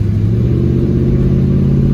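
A Chevrolet Camaro SS with a custom aftermarket exhaust rumbles loud and close, giving a steady deep idle-to-rev drone with no talking over it.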